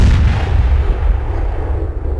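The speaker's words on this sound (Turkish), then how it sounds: "Şimdi top atıyoruz herhalde denize." Cannon fire from a Gallipoli-era coastal battery aimed at the sea in a Çanakkale war game, a loud, dense low rumble of booming shots that starts strong and slowly fades with no talk.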